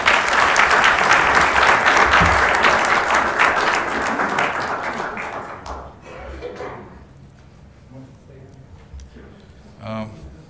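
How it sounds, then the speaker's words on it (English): An audience at a city council meeting applauds: dense, sustained clapping from many hands for about five seconds, then thinning out and fading to scattered claps and murmuring voices. "Let's give them another round of applause"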